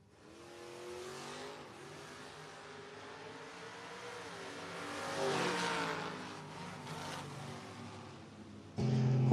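Two drag racers, a pickup truck and a Camaro, launch and accelerate down the strip at a drag racing event, engines roaring loud and steady with rising revs, then an abrupt louder burst near the end.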